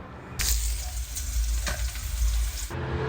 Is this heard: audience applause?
no